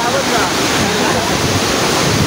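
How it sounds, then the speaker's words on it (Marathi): Heavy waterfall in Maharashtra spilling down in stages gives a close, loud, unbroken rushing roar throughout. "पाणी टप्प्याटप्प्यावर पडतंय"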